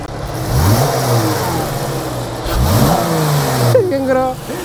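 A Dodge Challenger's engine revs hard in Dubai, its pitch climbing and falling in repeated surges that roar loudly and close, with a voice talking over the engine noise.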